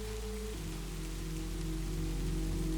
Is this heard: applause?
no